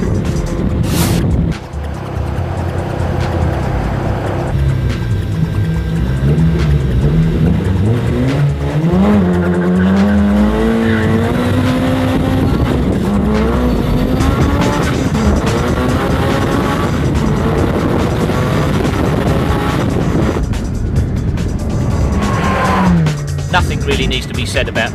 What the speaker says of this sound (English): Nothing really needs to be said about that car, does it? Just listen to it.